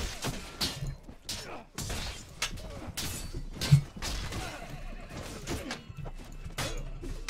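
Armored horses whinny and clatter during a battle in the video game Mount and Blade, with repeated loud neighs, hoof clops and sharp crashes of combat, close and busy throughout.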